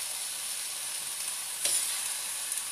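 Chickpeas and kale sizzle steadily in a hot pan, a close, even frying hiss with a brief stir or clatter partway through and no talking.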